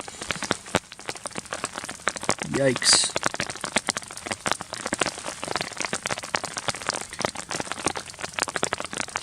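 Steady rain patters on a tarp at a mountain campsite during an alpine backpacking rainstorm, dense close drumming throughout, with a brief spoken exclamation partway through.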